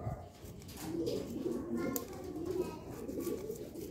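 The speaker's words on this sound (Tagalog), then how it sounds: "Sa lahat ng ibon dito." Soft, low cooing from doves or pigeons murmurs continuously over a noisy background, moderately close and fairly quiet.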